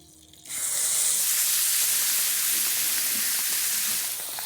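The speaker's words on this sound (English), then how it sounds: "straight into a piping hot pan. Listen for the sizzle." A loud, steady sizzle of beef hitting a piping hot, oiled pan for browning, bursting in suddenly after near silence and holding strong before easing slightly at the end.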